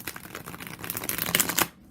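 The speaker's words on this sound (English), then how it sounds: "this shuffles very nicely" Close riffle of a 1910 Rider deck of playing cards being shuffled, a quick burst of flicking paper clicks that builds and then stops abruptly.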